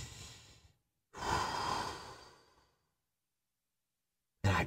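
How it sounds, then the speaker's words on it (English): A slow, deep breath is drawn in and let out during a quiet moment of stillness. It comes in two soft, close breathy swells with silence between them, then a brief third one, with no talking. "And I just take a deep breath."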